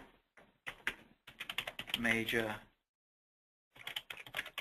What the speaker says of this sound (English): There's the quote I'm typing in there.